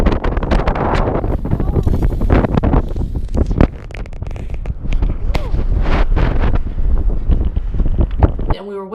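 Strong wind on a mountain ridge in Guatemala buffets the microphone in loud, gusty rumbles and roars, briefly easing midway before surging again.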